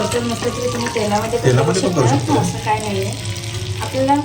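Tadka sizzling in butter in a ladle with garlic, a close, steady crackle and hiss with a voice talking over it.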